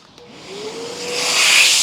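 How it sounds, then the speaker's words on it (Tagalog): A portable vacuum blower running in vacuum mode, a steady rising whoosh of airflow with a faint motor whine that swells louder over a couple of seconds. "kaya siya vacuum blower, pwede po siyang vacuum, pwede rin siyang blower"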